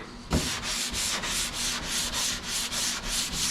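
A sanding block with sandpaper rubbing back and forth over a Dodge car door panel, a close rhythmic rasping in about eight even strokes after a single knock, with no speech.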